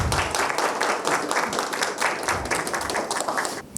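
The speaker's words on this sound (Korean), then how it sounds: "큰 박수로 맞이해 주시기 바랍니다" Sustained applause from a conference audience welcoming the first speaker, the CEO of an ESG tech firm, dense steady clapping filling the hall for nearly four seconds.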